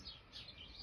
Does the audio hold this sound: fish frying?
no